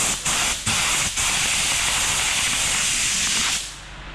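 Loud, steady hiss of a spray adhesive can held close, with a few brief pauses at the start before one long continuous burst that cuts off.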